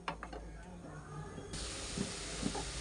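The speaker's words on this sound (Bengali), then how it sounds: "এটা আমাদের বেশ ফুটতে শুরু হয়ে গেছে দেখতেই পাচ্ছ" Sugar syrup boils in a pan for making chomchom, giving a soft bubbling that gives way to a loud, steady hiss about halfway through.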